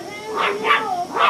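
A puppy named Sandy yaps and yips in three quick, close bursts while chasing a running hoover, whose steady whine drones underneath.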